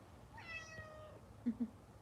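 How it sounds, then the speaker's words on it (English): A cat gives a single soft, drawn-out meow, faint and fairly close, followed by a couple of quiet low thumps. "No, she actually meowed."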